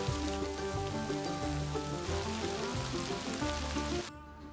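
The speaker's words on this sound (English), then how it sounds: "it's still raining" Rain falls on a solo overnight hike along the Pigeon Roost Trail in Arkansas, a soft, constant patter behind a tonal hum that drops away at the very end.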